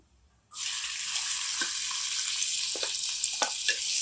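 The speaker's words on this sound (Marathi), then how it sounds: "आता घालूया आपण बारीक चिरलेलो कांदो" Finely chopped onion hits hot oil in a pan and erupts into a loud, steady sizzle that carries on with small stirring knocks and crackles, no talking.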